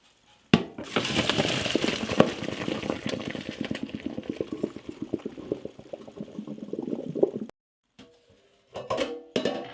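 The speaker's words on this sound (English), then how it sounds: "let's drain this water out" Water gushes and splashes continuously for several seconds as it is drained from a pasta cooking pot, then stops, followed by a few clanking knocks of the pot.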